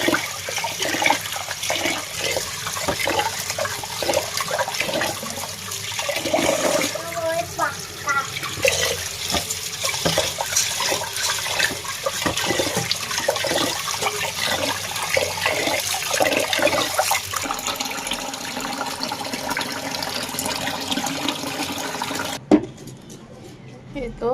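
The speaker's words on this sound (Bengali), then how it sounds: "চালগুলো ধুয়ে নিচ্ছি" Rice being washed with water in a kitchen, continuous close sloshing and running water with rustling grains, steady throughout before stopping abruptly near the end.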